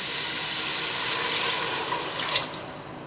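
Broth pouring steadily into a cooking pot for leek and cheese soup, a continuous close splashing liquid stream with a slight gurgle toward the end.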